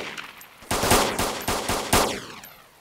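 Bursts of gunfire in the survival video game DayZ, a quick series of about five loud, sharp shots in an uneven rhythm, fairly close, with no talking over them.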